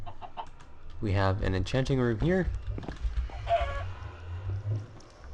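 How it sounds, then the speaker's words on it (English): Chicken clucking in a video game, with short bursts of fowl calls rising briefly over a low steady hum while a person talks nearby. "Why did that chicken start dying?"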